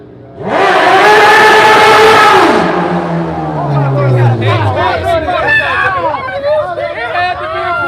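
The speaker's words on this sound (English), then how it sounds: "it had to be a pink motorcycle" A pink Suzuki Hayabusa motorcycle engine revs up loud and close, holding a steady high roar for about two seconds before dropping and winding down, then crowd chatter and voices take over in a busy outdoor gathering.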